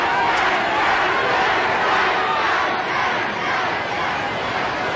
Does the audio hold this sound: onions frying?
no